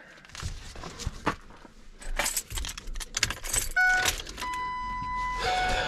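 Keys jangle and rattle in bursts inside the cab of a 7.3 Powerstroke diesel truck, close and crisp, followed by chimes and beeps as the ignition is turned.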